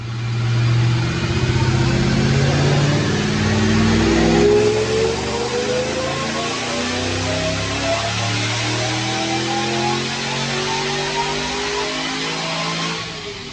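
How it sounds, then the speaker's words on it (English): A 2006 Saleen Mustang fitted with a Brenspeed Stage 3 upgrade makes a sustained dyno pull, its engine roaring loud and steady and rising in pitch throughout, with no talking. "So what we're going to do right now is watch a dyno pull"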